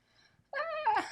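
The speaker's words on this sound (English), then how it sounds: "That is my cat having shenanigans under the bed." A pet cat under a bed lets out a loud, drawn-out meow-like cry with rising and falling pitch, close by, after a moment of near silence.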